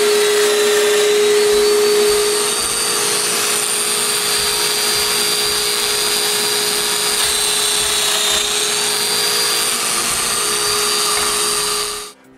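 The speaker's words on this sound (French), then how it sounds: "Au centre de chaque bout des traverses, je perce un trou pour un domino." A domino joiner bores holes into the ends of wooden rails and posts for a bedside table, giving a loud, steady high-pitched whine with a sustained tone that runs unbroken for about twelve seconds before cutting off.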